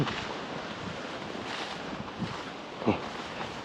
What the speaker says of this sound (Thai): ลมแรงจริงพี่น้อง